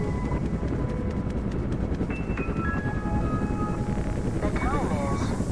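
The automated Black Mesa Transit System train in Black Mesa: Blue Shift runs with a continuous low rumble and rattle, with faint tonal hums and chimes drifting over it and a wavering sweep near the end.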